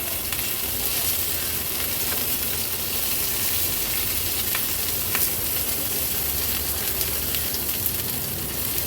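Bell peppers (capsicum) sizzle steadily in a hot pan as they are turned round, with a loud, continuous, close frying hiss and faint crackles throughout.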